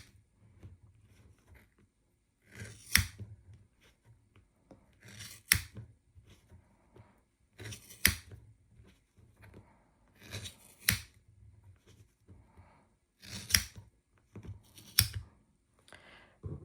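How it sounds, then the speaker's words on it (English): Scissors snip through thick yarn while a crocheted bunny is being made, six crisp separate cuts spaced a few seconds apart, close and clear with quiet handling between. "The thicker the yarn, the harder it is to cut."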